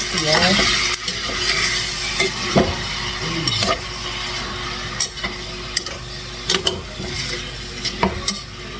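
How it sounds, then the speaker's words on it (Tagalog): Pork for Filipino adobo stirred in a pan, with a sizzling frying bed under irregular sharp scrapes and clinks of a utensil against the pan. "And you can stir it just for a while."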